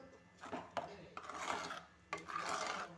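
A spoon rasps and scrapes through pazham pulissery curry with yogurt in a pan, in three separate scraping bursts that are close and moderately quiet.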